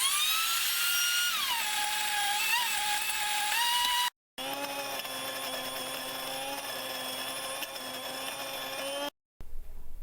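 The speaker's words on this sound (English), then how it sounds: "a few people have asked me how loud these grain mills are. They're this loud." An electric grain mill grinds three cups of a grain mix into flour, a loud steady high-pitched whine with harmonic tones that shift slightly in pitch, cutting out briefly twice and running on alone without talk.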